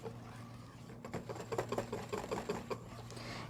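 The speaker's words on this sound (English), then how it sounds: "I'm going to whisk this a little bit." A whisk beats an egg yolk mixture for mint chocolate semifreddo, with rapid, fairly quiet rhythmic taps and scrapes against a bowl over a steady background hum.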